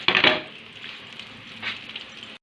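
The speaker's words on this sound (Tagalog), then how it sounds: "Ito po, magigisa na po ako ng ating sayote po." Chayote sizzles as it is sautéed in a hot pan, a bright burst of frying at the start easing into a steady hiss with a brief stir midway.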